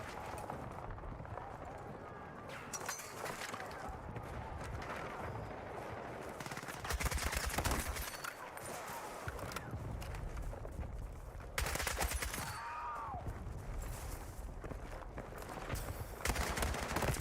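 250X gun in the shooter video game RedSec firing in rapid bursts of sharp automatic shots, mixed with running footsteps and game noise, heard under a player talking.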